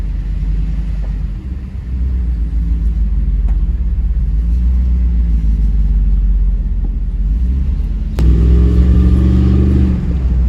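A car driving, heard from inside as a steady low road and engine rumble throughout, with a brief knock partway through and no talking.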